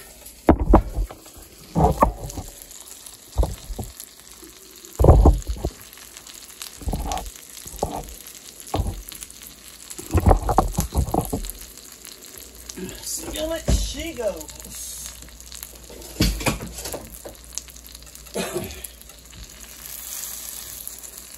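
A fat burrito pan-seared in a skillet over low heat sizzles steadily up close, broken by bursts of scraping and clatter as a spatula presses it down, while a voice talks over it.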